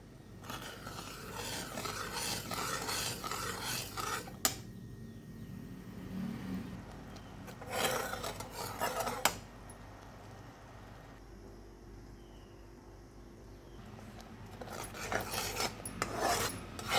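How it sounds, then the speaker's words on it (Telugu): Puffed rice being dry-roasted in a pan, with repeated bursts of dry rasping and scraping as the grains are stirred and shuffled against the metal, separated by quieter stretches. "ఇవి కొంచెం లైట్గా ఇలా వేయించుకుంటే బాగుంటుంది"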